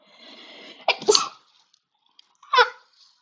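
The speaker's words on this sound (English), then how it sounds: "I'm sneezing" A wheezy inhale followed by a sharp sneeze, then a second short sneeze a moment later, close and loud against silence.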